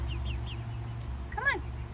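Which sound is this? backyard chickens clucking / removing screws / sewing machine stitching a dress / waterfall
backyard chickens clucking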